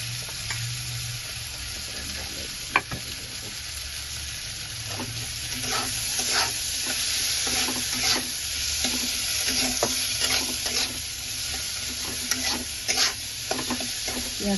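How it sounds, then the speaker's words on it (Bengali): Chopped onions and garlic frying in a pan: a continuous close sizzle broken by repeated spatula scrapes and taps against the pan, with no talking. "পেঁয়াজ কটা ফ্রাই করে নেব।"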